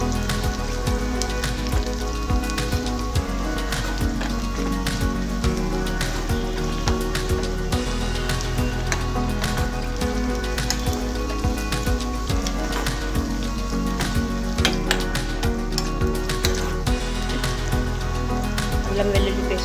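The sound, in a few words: onions frying with ginger garlic paste in oil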